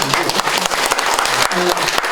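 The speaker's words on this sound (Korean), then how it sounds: "박수 한번 좀 받고" Audience clapping at a lecture, a dense burst of applause filling the room for a couple of seconds at steady strength.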